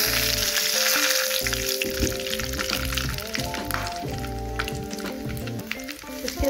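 Whole spices (cloves, cardamom, cinnamon and bay leaf) crackle and sizzle in hot oil for mutton korma. A loud, close frying hiss runs throughout, with faint tonal sounds in the background.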